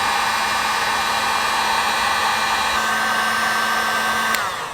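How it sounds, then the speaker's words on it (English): Heat gun blowing hot air onto a solder connector joining wires for an off-road light pod install, a loud, steady whirring drone held close and uninterrupted, then switched off and fading near the end. "then you just take your heat gun and you heat it up"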